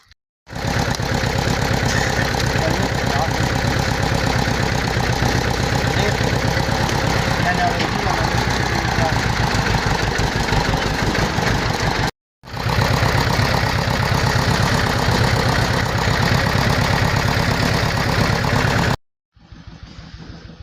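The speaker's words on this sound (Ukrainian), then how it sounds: "щось дуже підозріло трактор почав бабахкати" A loud tractor engine runs roughly with a knocking, thumping beat. It cuts out briefly partway through, restarts, then stops near the end.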